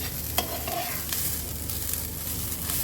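Grated coconut is sautéed in a pan over a low flame for modak filling, a soft continuous sizzle with light stirring scrapes, close and without talking.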